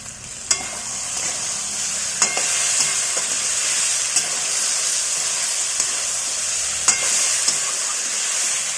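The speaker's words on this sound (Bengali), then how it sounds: "আবারও ভালো করে নাড়াচাড়া করে নিচ্ছি" A cucumber curry with tomato sauce and a pinch of sugar fries with a loud, even sizzle and steamy hiss, punctuated every second or two by sharp scrapes and taps of a stirring spoon against the pan.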